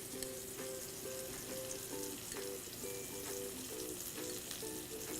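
Pork medallions frying in clarified butter in a pan: a steady close sizzle with soft crackling and a repeating rhythmic tone pattern running through it, no talking.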